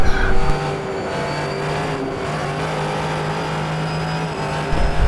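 A GT-class race car in a racing sim at Road Atlanta drones steadily at high revs, with a throaty engine note and faint tire scrub as the driver fights the throttle through a corner.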